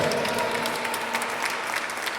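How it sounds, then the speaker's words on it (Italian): Steady, dense applause from a live concert audience at an Epiphany concert, many hands clapping evenly throughout at a fairly loud level with no break. "Un applauso ancora più forte al professore Enzo Raimo."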